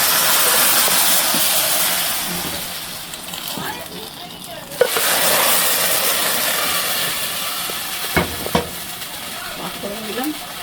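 Panch phoron spices sizzling and frying in hot oil as they are added to a sour magur fish curry with khatta, a steady loud hiss with stirring scrapes and a few clicks.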